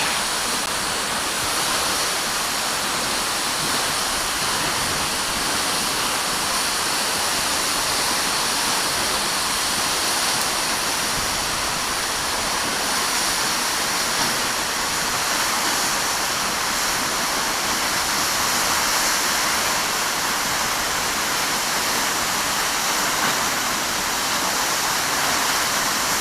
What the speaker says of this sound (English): just feeling the din of the waterfall. Such a great, soothing sound.